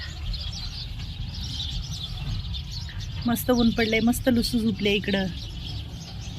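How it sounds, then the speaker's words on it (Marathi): Bright bird chirps in a quick cluster over steady background noise, with a person speaking nearby. "चिमण्यांचा किलबिलाट"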